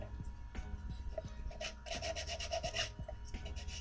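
Hand sanding on a Predator cosplay prop, a steady rasping rub with short repeated strokes at close range, no talking.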